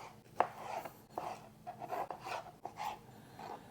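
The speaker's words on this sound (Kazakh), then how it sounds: "соленый огурцыларымызды жақсылап соломка етіп турап аламын" Knife chopping pickled cucumbers into thin julienne strips on a board, a run of uneven close cuts and scrapes without talk.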